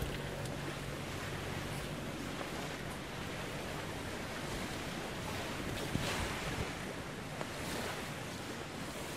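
Wind rises over the open sea aboard a boat, a dense, continuous roar of gusts and surf that stays steady and moderately loud throughout.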